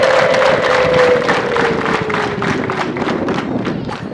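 A crowd at a rural women's day gathering in Kigoma sector claps dense, steady applause to welcome guests, with a high wavering ululation sliding over the clapping throughout.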